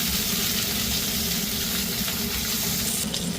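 Capsicum fries in a pan over a low gas flame with cumin seeds for chicken chilli, giving a loud, dense, continuous sizzle that holds steady throughout.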